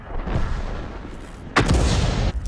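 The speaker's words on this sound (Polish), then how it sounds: "fartowny strzał z penetracją" Heavy tank destroyer cannon firing in World of Tanks, an SU-14-2: a loud booming shot bursting in midway and ringing out over a low rumbling battle ambience, with no talk.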